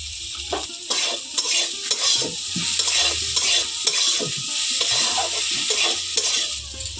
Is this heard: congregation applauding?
no